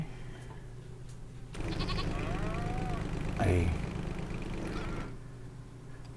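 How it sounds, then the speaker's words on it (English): Sheep bleat close by at a homestead farm pen in a wavering cry lasting a few seconds, with a louder, coarser bleat in the middle and a low rumble under it. "I guess I was too close to the sheep."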